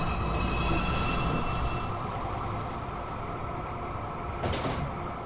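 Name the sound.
New York subway 2 train at 207 St station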